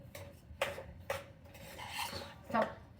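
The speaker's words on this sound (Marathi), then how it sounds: "आपल्याला चांगला भात असा परतवून घ्यायचा मसाल्यामध्ये" Rice being stirred and tossed through masala in a metal pan, with a few distinct scraping clatters of a spoon against the pan spaced across a quiet background.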